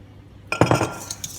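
Yogurt and sugar stirred together in a bowl for a marbled chocolate-mint yogurt cake batter, heard as a short burst of clinking utensil-against-bowl strokes, close and fairly loud, fading into softer scraping with no talking.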